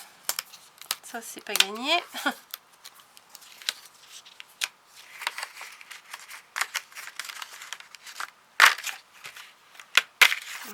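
A pre-cut diamond painting card backing is peeled and torn away by hand, giving crackly tearing and rustling bursts in short irregular bursts, close up. Someone speaks briefly in French during the tearing.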